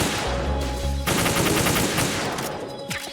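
Rapid full-auto bump-fire gunshots from Metal Gear Solid 2, a dense continuous stream of loud close bursts filling nearly the whole span with a brief break near the start and another shot cluster at the end, no talking.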